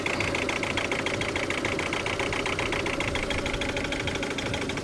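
Ford Galaxy TDi diesel engine running after a very long crank, a close, steady idle with a rough, rapid knocking clatter that repeats evenly throughout.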